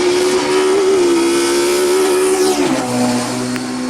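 1960s racing car engines, a Brabham BT2 Ford followed by a Lotus 27 Ford Twin Cam, drone loudly and steadily at a circuit. The engine pitch drops sharply partway through as the cars pass close by.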